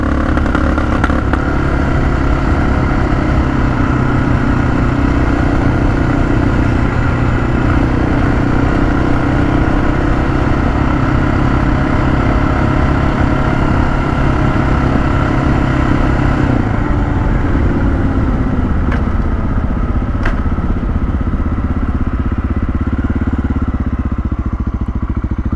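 A Honda XR650L motorcycle with a carburetor problem idles steadily with a loud, close, constant engine drone whose tone shifts and drops slightly about two-thirds of the way through, with no voices.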